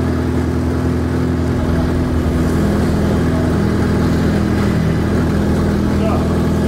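A Lada VAZ-2109 with a stretched, lengthened body pulling away, its mid-pitched engine droning steadily and close throughout with a low rumble, while people talk over it.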